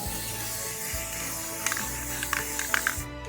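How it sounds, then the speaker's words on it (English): Crystal clear enamel sprayed from an aerosol can on an outdoor porch onto craft ornaments, a steady hissing mist running throughout with a few faint clicks and taps over it. "Here's the can I use, crystal clear enamel. And I'm out on my porch spraying a mist."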